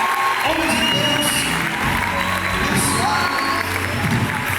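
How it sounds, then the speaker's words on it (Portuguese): Loud, sustained applause from a church congregation at Lagoinha Niterói, dense clapping mixed with crowd cheers and whoops, filling the whole stretch at an even, close level with voices calling out over it. "Eu queria que você recebesse um aplauso mais alto que você puder."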